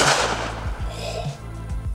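A machine gun mounted on a robot dog fires in a few close, loud, sharp bursts spaced irregularly over a couple of seconds, with no talking.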